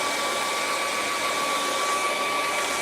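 Hair dryer blowing steadily to dry a watercolor painting between layers of foliage, a constant loud whooshing hum with a faint motor whine running through the whole stretch.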